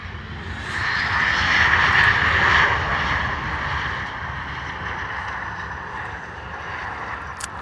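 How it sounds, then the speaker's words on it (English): Embraer jet at Stansted Airport, its engines roaring steadily with a broad whine and rumble that swells early then holds fairly loud, no talking. "Oh, it's an Embraer."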